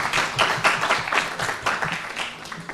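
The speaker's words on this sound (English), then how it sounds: "a big round of applause for that idea and for our presenter" Conference audience at a direct democracy forum applauding a presenter, moderate close clapping in an uneven rhythm, short and fairly soft throughout.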